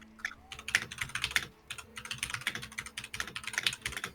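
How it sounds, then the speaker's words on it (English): Rapid typing on a computer keyboard, dense bursts of clicking keystrokes with brief pauses between flurries, fairly close and continuous for several seconds without talk. "He's typing fast."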